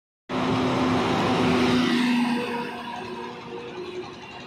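A car engine starts up abruptly and runs loud and close, with a strong tonal hum for the first couple of seconds before settling into a steadier, somewhat quieter drone.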